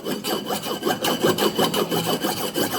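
Kitchen knife sharpened against the unglazed rim of a ceramic tea mug, a rhythmic series of close, gritty scraping strokes, roughly three or four per second, with no talking.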